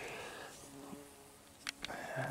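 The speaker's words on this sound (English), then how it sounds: "There's a carpenter bee." A carpenter bee buzzes in a spring garden beside asparagus beds, making a steady, close drone that lasts throughout, with a few brief bumps and clicks.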